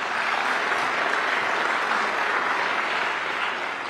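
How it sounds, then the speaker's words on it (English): Sustained, even applause comes from a large audience of public and private sector leaders at the opening of the Bloomberg New Economy Forum in Singapore, dense and continuous with no voices. "so they get a big hand of applause as well."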